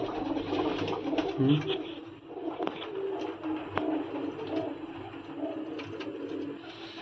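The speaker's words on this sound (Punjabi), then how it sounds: "ਇੱਕ ਗੂੰ ਗੂੰ ਬੜਾ ਕਰਦਾ ਬੰਦੇ ਨੂੰ ਦੇਖ ਕੇ" A pigeon coos softly, with low throaty calls over a murmuring background of ambient noise.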